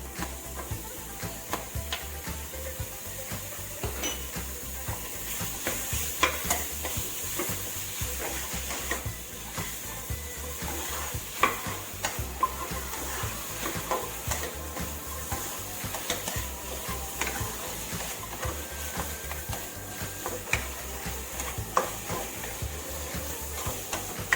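Ingredients for a chicken and glass noodle curry are stir-fried in a pan, with a soft continuous sizzle under repeated rhythmic scraping and clinking of a utensil, close by and without speech.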